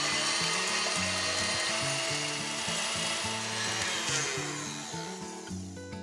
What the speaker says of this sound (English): it's time to whisk our egg white.